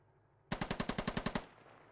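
A close burst of about ten rapid automatic gunshots rings out in the military shooter game Squad, evenly spaced and loud, then trails off.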